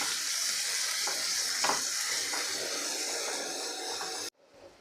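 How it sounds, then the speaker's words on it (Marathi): Chopped onion with salt sautés in a hot pan, giving a continuous bright sizzle with occasional scraping stir strokes, close and moderately loud, before it cuts off abruptly near the end. "कांदासुद्धा पटकन असा मऊ होतो बघा अशा पद्धतीने आपल्याला परतून घ्यायचं आहे"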